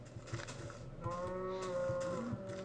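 Cows mooing in the Minecraft video game, several short low moos overlapping one another, followed by a longer drawn-out moo, all fairly close with no talking.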